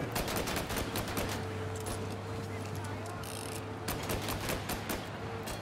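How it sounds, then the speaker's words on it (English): Rapid automatic gunfire in the Mafia video game, a dense continuous stream of shots with a steady low engine-like hum running beneath, loud and close throughout. "I'm just gonna keep shooting."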